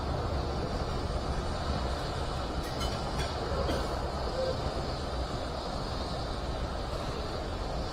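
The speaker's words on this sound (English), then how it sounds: "Currently, the Merlin 1B engines are operating at full power." Falcon 9 Merlin 1B engines at full power during the Eutelsat 117 launch from Cape Canaveral, a continuous dense roaring rumble that holds steady throughout, with a faint voice beneath it.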